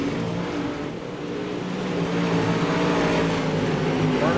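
Dirt track race cars roar around the oval at Volusia during a B-Main race, a dense, continuous engine drone that swells louder midway as the pack passes, with no talk over it.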